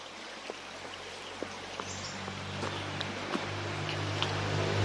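Steady flowing water from a nearby stream, a continuous watery wash with scattered small drips and splashes, growing slightly louder.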